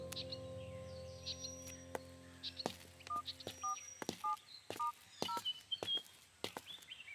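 A phone keypad is dialed, a series of short, separate two-tone beeps pressed one after another over several seconds, amid light handling clicks and faint background chirps.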